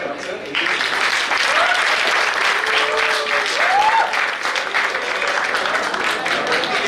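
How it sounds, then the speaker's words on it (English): Dense, sustained applause from a large audience fills a science-day celebration hall, steady and loud from just after the start to the end, with a few faint voices rising over the clapping. "please give a huge round of applause for sir"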